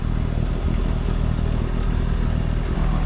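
A sailboat's engine runs steadily at 1500 RPM in reverse while setting the anchor, a loud constant low rumble and clatter with no pauses and no talk.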